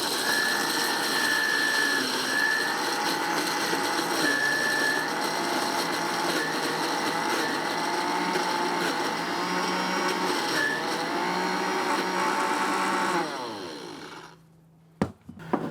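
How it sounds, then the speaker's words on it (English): A blender steadily whirs as it purees basil, pine nuts, garlic and oil into pesto, a loud sustained motor drone with a shifting pitch that winds down and stops near the end, followed by a couple of faint knocks. "I'm going to add some oil very slowly while I spin it very slowly"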